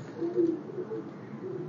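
Pigeons coo softly in a rooftop loft in Gujrat, a low murmuring warble rising and falling in a few faint, overlapping phrases against steady background hiss.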